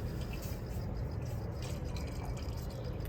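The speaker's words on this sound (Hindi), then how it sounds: "पानी बॉयल हो चुका है, अब जो है दूध ऐड हो रहा है" Milk pours into a pot of boiling water while tea is made, a steady, quiet hiss and trickle that continues without a break and with no voices.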